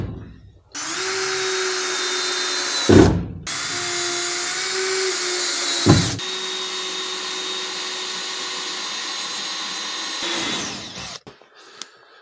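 A power drill whines steadily at high speed in three long continuous runs separated by short pauses, loud and close, with no voices; the drill is driving screws into a wooden cell structure during a rebuild.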